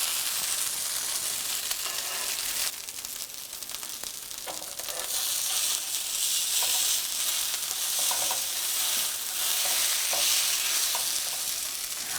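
Vegetarian egg foo young patties frying in a pan and pressed down, with a continuous bright sizzle, occasional louder crackling bursts and soft spatula scrapes.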